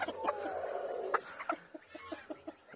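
Silkie chickens cluck in a series of short, close calls with uneven gaps. A longer call carries through the first second, and soft talking sits in the background.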